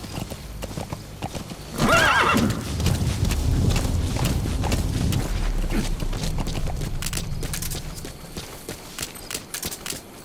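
A horse in the stealth action game Metal Gear Solid 5 clip-clops along with a loud whinny early on, then rapid rhythmic hoofbeats continue close and steady before easing off.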